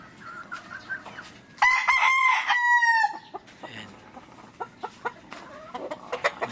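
Stag roosters in a farmyard, one crowing loudly and nearby in a single long cock-a-doodle-doo, surrounded by softer clucks and scattered bird calls.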